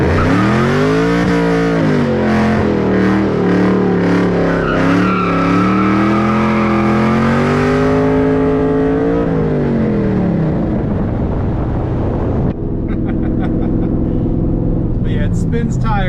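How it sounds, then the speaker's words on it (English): A 2001 Mustang Cobra engine revs hard with squealing, skidding rear tires, rising and falling in pitch, loud and close, then cuts to a lower steady rumble. "you can just like aggressively let off the clutch and this thing will spin tires"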